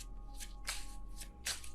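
Tarot cards are shuffled by hand in a quiet room, three short papery riffling bursts spaced about half a second apart, soft and close with no talking.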